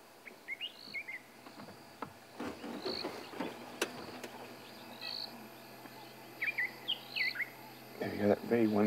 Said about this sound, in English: There we go, that very wonderful fluid chortle. Now, that is the robin chat